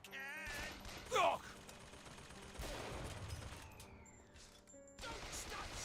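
Gunfire in the video game BioShock Infinite, with shots and impacts under a sharp crash near the start, then a rumbling continuous stretch of firing, with brief game chatter mixed in.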